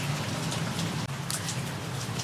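Rain falls steadily outside, making a dense even patter with scattered louder drips and no voices.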